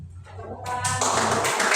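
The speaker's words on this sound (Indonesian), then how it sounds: "Tepuk tangan." A classroom of children clapping, a quick burst of applause that starts right after a short spoken cue and carries on bright and close to the end.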